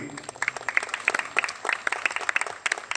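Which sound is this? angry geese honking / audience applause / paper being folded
audience applause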